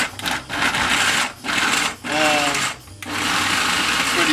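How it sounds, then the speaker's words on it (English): Garlic being ground by hand for a fish and pasta dish, heard as a steady, close rasping grind in repeated bursts with short pauses between them. "We just grind this up a bit."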